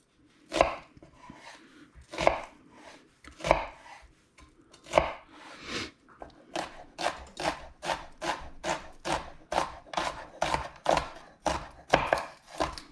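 A food processor chops onion in short pulses, roughly fifteen brisk bursts of whirring and chopping. The bursts come sparsely at first, then quicken into a fairly regular rhythm, close and moderately loud.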